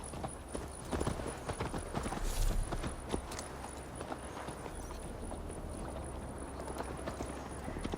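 Horse hooves clip-clopping steadily as a rider travels on horseback through the Viking-era world of Assassin's Creed Valhalla, a continuous near, rhythmic trotting patter with faint ambient rumble and no talk over it.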